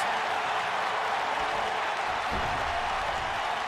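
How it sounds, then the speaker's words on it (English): A capacity arena crowd in the WWE 2K19 wrestling game roars with a dense, steady wash of cheering and applause, loud and sustained throughout, with a brief low thud partway through. "This capacity crowd starting to sense the end is near"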